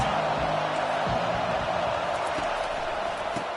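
A dense, steady roar of a large stadium crowd cheering at a Texas Tech vs Oregon game in the video game College Football 25, loud and continuous throughout with no pauses.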